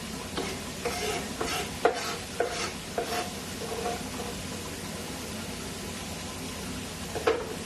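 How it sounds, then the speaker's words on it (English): Carrots and onions sauté in a pan for ragu, giving a steady, moderate sizzle with several quick stirring scrapes early on and one more near the end, and no talking. "we are going to saute these carrots and onions"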